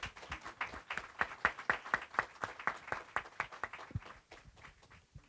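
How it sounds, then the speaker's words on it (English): Sparse, fairly quiet clapping from a small conference audience on dental therapy, individual hand claps landing in a loose, slightly uneven rhythm and thinning out toward the end. "So if your name is on this list, please stand up so we can give you an applause."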